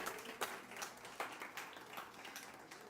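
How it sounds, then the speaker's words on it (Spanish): A church congregation applauds, giving scattered, moderately loud claps in an uneven rhythm that continue for a few seconds with faint voices underneath. "Denle un aplauso al Señor"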